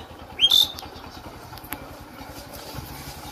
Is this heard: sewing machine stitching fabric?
no